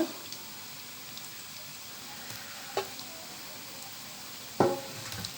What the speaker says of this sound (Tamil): இது கொஞ்சம் பொறிஞ்சு வரட்டும்